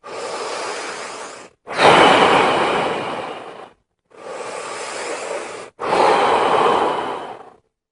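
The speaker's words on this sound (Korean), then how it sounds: "속에 있는 걸 다 내뿜고 들여 마시기 이런 숨을 쉬어야 되지 돼요." Deep, full breathing close to the microphone: two cycles of a long breathy exhale followed by a strong, noisy inhale, each separated by brief silence, with no talking.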